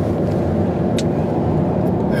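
A car drives along a road, giving a steady, close low rumble of engine and tire noise inside the cabin with no breaks and no speech.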